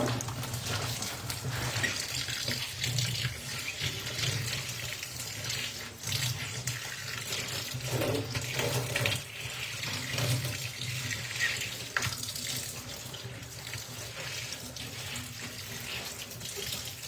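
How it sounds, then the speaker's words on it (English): A tap running warm water into a sink while rinsing a tie-dyed spiral shirt, a steady close splashing gush that continues throughout with small shifts as the flow is handled. "I'm wondering why I'm switching to warm water"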